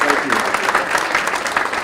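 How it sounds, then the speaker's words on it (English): A crowd at a mayor's community breakfast gives a short burst of steady hand clapping for local first responders. The applause is fairly loud and close, with voices mixed in. "Let's give a round of applause to the guys who keep us safe every day"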